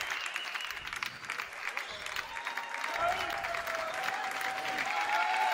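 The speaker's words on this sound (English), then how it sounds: "Well, we can applaud that." Basketball crowd at a girls' high school Class 3A regional game applauding in a gym, a dense wash of clapping that swells midway, with a voice talking over it and squeaks from the court.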